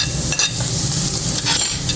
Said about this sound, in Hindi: इसमें हम सबसे पहले ये चॉप किया हुआ प्याज डाल देंगे। इसे हल्का हल्का हम शैडो करते हैं।